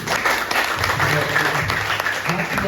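Audience applauding at a college graduation (yudisium) ceremony, a dense steady patter of clapping filling the hall with some voices mixed underneath.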